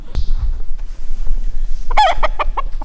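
Several chickens cluck and squawk in a short burst of calls near the end, following a brief low thump at the start over a steady outdoor hum, with the birds fairly close.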